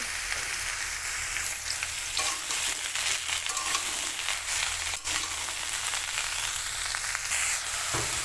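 Potato pieces and soybean chunks frying together in a pan crackle with a bright, constant sizzle, with occasional stirring bumps over the top, close and loud, with no voices.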